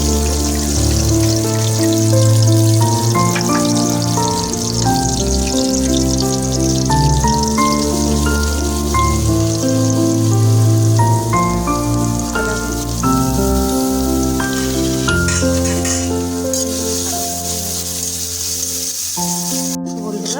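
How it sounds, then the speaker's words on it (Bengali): Spice masala for a soy and chili sauce dish sizzles and fries in a pan, a continuous hissing crackle running beneath loud background music. "মশলাটা ভাজা ভাজা হয়ে গেছে"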